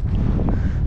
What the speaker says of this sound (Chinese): 最近一直是大风天啊！